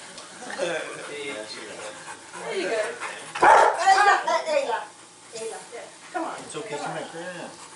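A dog barks and yips loudly at close range during a lively indoor greeting, its barks mixed with several people talking over it.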